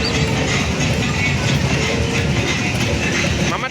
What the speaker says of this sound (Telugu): ట్రైన్